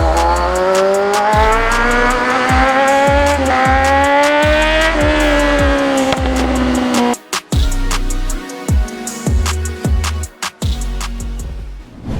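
A remapped Kawasaki Z1000 motorcycle revs hard and climbs through gears, its loud near engine note rising in repeated pulls before dropping off and choppily revving again in short bursts.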